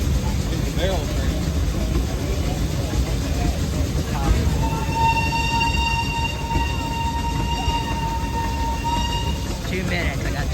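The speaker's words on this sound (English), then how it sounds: "It's a barrel train." A barrel train runs at a historical engineers' association steam show, a steady rumbling roll with a long sustained whistle tone joining midway, heard over background crowd chatter.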